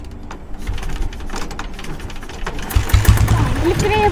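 A diesel motorcycle is kick-started, giving irregular mechanical clatter and knocking that swell into a rougher engine sputter toward the end, with people talking over it.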